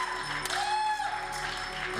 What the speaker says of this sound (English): So even he's applauding.